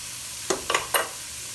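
Garlic dropped onto onions and vegetables frying in a pan gives three short sizzling bursts over a low, quiet background hiss.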